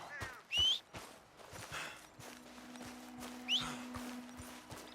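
Hooves clip-clop at a slow walking pace alongside a brief whinny, with a steady low hum running underneath, from a horse in the video game Red Dead Redemption 2.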